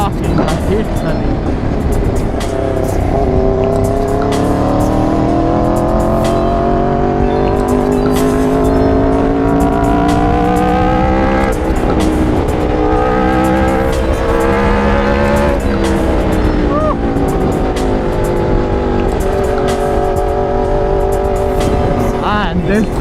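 An Aprilia RSV4 motorcycle engine drones loudly throughout a ride, its pitch rising and falling through gear changes with wind rush and faint voices mixed in.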